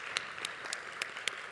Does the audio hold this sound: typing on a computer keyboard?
no